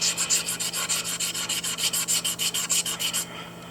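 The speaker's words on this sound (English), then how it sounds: "Keep sanding away." A sand dollar echinoid fossil, Dendraster gibbsii from Southern California, is sanded by hand with rhythmic back-and-forth rasping strokes, about twenty in a row, close and steady, then stopping.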